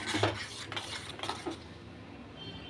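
A spoon stirs mango payesh, made with Gobindobhog rice and ripe mango, in a pot, with a few clinks and scrapes against the metal that fade to quiet stirring.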